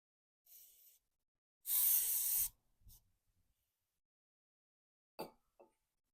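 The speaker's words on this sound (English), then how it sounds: "I'm going to spray the backside of this." Short hissing bursts from an aerosol can of brake cleaner sprayed onto a bottle jack, one brief, one long and strong, then a couple of faint quick spritzes in otherwise near silence.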